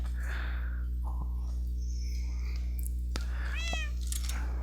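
A cat meows inside a survival video game, several distinct meows over a steady low hum, with a voice talking faintly at times.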